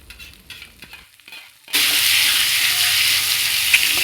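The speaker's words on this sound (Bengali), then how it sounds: "এখন আমি এর মধ্যে চিকেন কিমাটা দিয়ে দিচ্ছি এবং কিমাটা দেওয়ার পর বেশ ভালোভাবে একটু নাড়াচাড়া করে নেব" Chicken keema stirred in a pan over a high gas flame. A loud, steady sizzle starts abruptly after a second of quieter scraping and clatter, then holds at full strength to the end.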